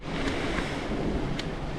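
Rushing water of Coal Creek near Lake Tahoe, heard on a mountain bike ride, a steady broadband wash that stays loud throughout with a roar like surf and some wind buffeting the microphone.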